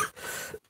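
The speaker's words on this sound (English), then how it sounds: "it's just this awful cough that I have with this cold" A single short, rough throat-clearing cough from a person with a cold, close and fairly loud, followed by a brief pause.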